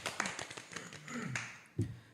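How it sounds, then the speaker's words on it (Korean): A few people clap in brief, light, close bursts of taps, with a short voice in between. "박수 한번 칠까요?"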